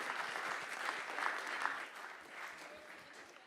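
A conference audience claps in sustained, dense applause that holds steady, then eases slightly toward the end, with no voices over it.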